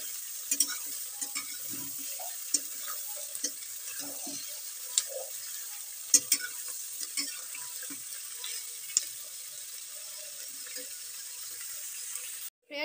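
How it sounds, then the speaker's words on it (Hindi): Onions fry in a pan as they are browned for a chicken gravy, with a soft continuous sizzle and frequent light scrapes and taps of a stirring spoon, close and fairly quiet. "इसे गोल्डन ब्राउन होने तक अच्छे तरीके से भून लेंगे"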